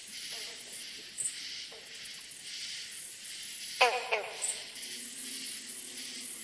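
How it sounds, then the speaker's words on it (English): A green frog gives one short, twangy double call partway through a late-season night chorus, over a steady wash of high-pitched insect buzzing and faint scattered clicks. "And that's a green frog."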